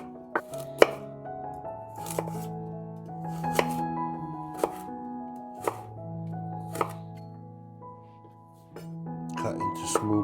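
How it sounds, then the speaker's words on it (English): A knife cuts a medium carrot into small cubes on a board, giving about eight sharp, separate chops at an uneven pace, heard over soft background music. "Cut into small cubes like so"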